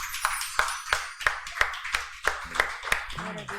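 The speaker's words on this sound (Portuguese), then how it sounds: "Palmas para Jesus." A church congregation claps in unison in a steady, evenly spaced rhythm of about three claps per second, each clap sharp and ringing in the hall, with a faint voice near the end.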